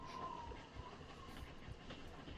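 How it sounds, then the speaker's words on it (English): A train rolls along rails as a sound effect, a soft continuous rumble with faint rhythmic clatter and a brief high squeal, heard quietly in the background. "the sound of the train changes just a little bit."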